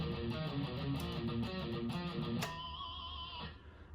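Distorted electric guitar riff in a metal style, chugging rhythmically for about two and a half seconds, then a sharp squealing pinch harmonic that rings out and fades; fairly loud, no talking.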